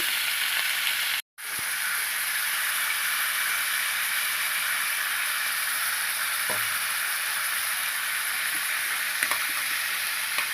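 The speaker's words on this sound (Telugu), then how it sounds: "మనం టమాటాలు వేసేసుకోవాలి టమాటాలు వేసేసుకోవాలండి" Tomatoes tossed into hot oil in a pan for a green chili chutney, giving a loud, steady close sizzle and frying hiss that cuts out briefly near the start and then continues evenly, with no talking.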